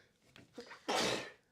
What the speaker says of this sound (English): I think I might have to sneeze again.